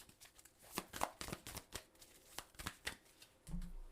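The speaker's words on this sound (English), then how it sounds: "let's start shuffling" A deck of tarot cards is shuffled by hand in a quiet room, giving a string of crisp riffling flicks and slaps at an uneven rhythm.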